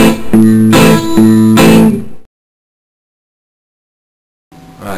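Acoustic guitar chords strummed and left ringing unmuted, loud strokes sustaining with a full tone before the sound stops, then a brief quieter strum near the end.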